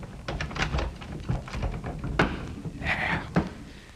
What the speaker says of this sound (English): First, I will lock the door.